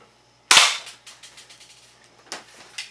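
A single sharp gunshot fired at a target on a simple outdoor shooting range, loud and close, followed by faint clicking and rattling handling noises.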